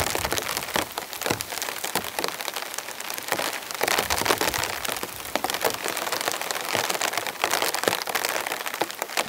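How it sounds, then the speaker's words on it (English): Heavy rain mixed with sleety ice pelting a tent while winter camping in a snowstorm, a dense continuous patter with sharper ticks, close and loud throughout. "There's so much rain coming down"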